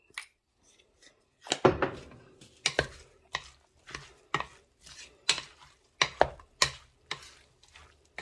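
Pico de gallo salsa seasoned with Himalayan salt gets mixed in a bowl, a close run of irregular scraping, clacking strokes that pick up pace after a quiet opening second; no voices.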